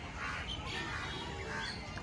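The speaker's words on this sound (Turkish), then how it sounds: "kargalar leşe gelirler biliyorsunuz" Crows caw repeatedly along the bank of the Ganges river in Kolkata near a cremation site, scattered calls over a dense, noisy outdoor background.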